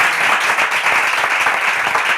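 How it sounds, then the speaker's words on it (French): A crowd applauding contestants at a Bible quiz, dense steady clapping from many hands filling the short stretch evenly from start to finish, with no speech over it. "Est-ce qu'on peut les applaudir?"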